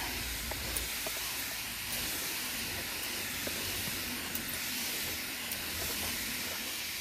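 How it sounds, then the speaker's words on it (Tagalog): A sprayer mists fungicide onto green bean plants in a garden, making a continuous, even hiss throughout, close and steady with faint ticks underneath. "Ito i-spray natin pang fungus saka pang uod."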